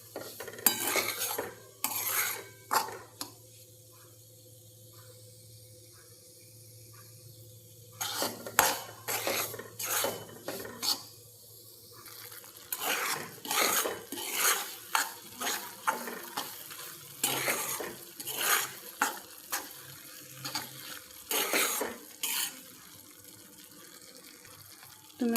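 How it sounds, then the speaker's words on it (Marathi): Semolina (rava) is stirred and roasted in a pan, with repeated scraping strokes of a spoon coming in irregular bursts over a faint background hum, and a few quieter pauses between. "इथे मी छान असं परतून घेते रव्याला."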